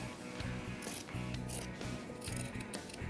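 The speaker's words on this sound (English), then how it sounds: "Just kind of take your scissors right there." Scissors snip repeatedly through serape fabric in a steady run of short cuts, close up, with faint mechanical rubbing between strokes.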